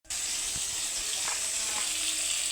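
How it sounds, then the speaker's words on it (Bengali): Potatoes frying in oil in a home kitchen pan while cooking chicken, giving a steady, close hiss of sizzling fat throughout, with a few faint clinks from the pan. "এই দেখুন তেলের মধ্যে আলু দিয়ে দিয়েছি, আলুটা একটু ভেজে নেব।"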